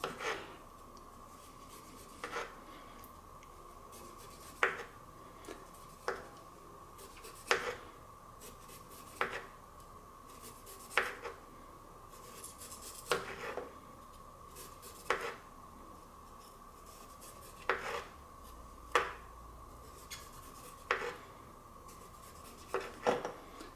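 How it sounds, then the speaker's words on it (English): A knife scraping the skin off a thick piece of ginger, soft rhythmic scrapes and light taps repeating every second or so against a steady faint hum, quiet and close. "So I'm just taking off the ginger skin."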